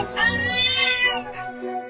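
A cat meows in a long, drawn-out, wavering cry, close and loud, with a shorter meow following it, and no one talks over it.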